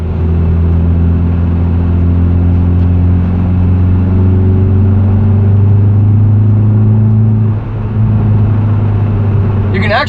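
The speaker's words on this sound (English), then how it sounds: "You can actually hear the turbo spool up some when you get on it." A 2020 Hyundai Veloster N engine held on the throttle gives a loud, steady mid-pitched drone for the whole stretch, rising slightly as the turbo spools, with only a brief dip near the end.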